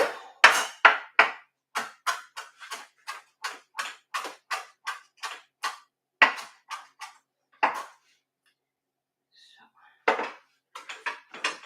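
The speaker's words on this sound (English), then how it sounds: "Chopping that very small." Vegetables chopped very small on a cutting board in a home kitchen, a series of sharp, close knife knocks in an uneven rhythm, with a short pause before a final quick burst of cuts.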